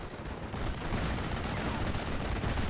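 Steel Division tournament match with a Kangaroo carrier's .50 cal machine gun firing on a building amid wider battlefield gunfire, a dense, continuous rattle of shots and distant artillery rumble.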